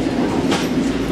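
Commuter train rolling toward Penn Station in New York City, a steady low rumble of the rail car with continuous wheel noise and no talk.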